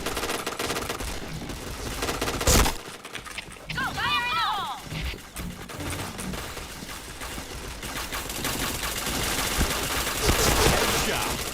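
Rapid gunfire in a shooter video game, with dense bursts of shots and a brief metallic effect in the middle, heard under someone talking.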